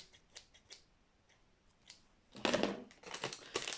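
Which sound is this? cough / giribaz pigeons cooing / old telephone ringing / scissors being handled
scissors being handled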